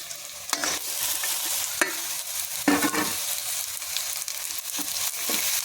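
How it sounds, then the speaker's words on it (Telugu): Ridge gourd pieces sizzle and fry with browned onions in a pan, a steady close hiss broken by several sharp scraping stirs of a spatula, with no voices. "ఇప్పుడు బీరకాయ ముక్కలు వేసుకుందాము"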